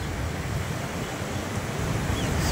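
Musi river floodwater rushes past the Maisamma temple near Shivaji Bridge in Hyderabad, a loud, steady, unbroken roar of churning water that holds at the same level throughout with no voices.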